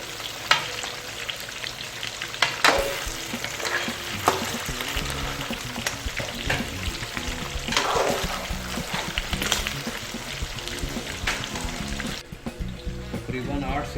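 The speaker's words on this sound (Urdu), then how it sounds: "یہ مٹن ہم نے ڈال دیا ہے تیل میں، اب یہ فرائی ہو رہا ہے" Mutton pieces fry in hot oil in a pot for Kabuli pulao, a steady loud sizzle and crackle running throughout with occasional stirring bursts, while a person speaks over it.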